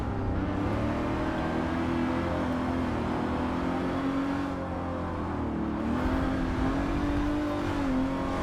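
A racing car engine in Forza Motorsport 7 roars steadily at close range, its pitch rising and falling through repeated revs across the whole stretch with no talk over it.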